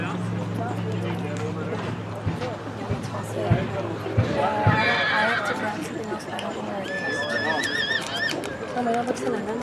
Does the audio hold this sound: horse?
yes